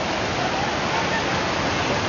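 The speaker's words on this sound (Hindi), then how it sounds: "फाइनली एक ऐसी जगह पे आ चुके हैं जहाँ पे नेचुरली वाटर बह रहा है" Cold, clear water flows naturally just below a temple, a steady close rushing wash of broadband noise with no breaks.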